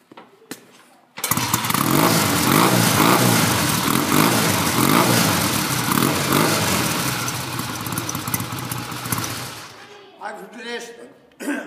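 A motorcycle engine idles loud and close for about nine seconds with a steady rumbling throb, then cuts off, leaving quieter handling noises.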